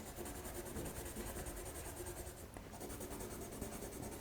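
A colored pencil blender rubbing steadily across paper, a soft continuous scratchy friction that stays quiet and even throughout with no pauses.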